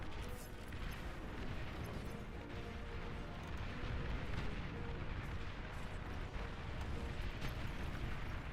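A commander unit exploding in the strategy game Beyond All Reason, a loud, dense, rumbling blast with crackling debris that holds at full strength through the whole stretch without a break.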